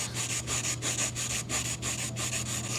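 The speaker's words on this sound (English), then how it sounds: "Got a sanding block. Just want to make sure that our edges are smooth. Again, I like to wet sand." Rhythmic back-and-forth wet sanding with a sanding block, quick even strokes about three per second, loud and close with no voices.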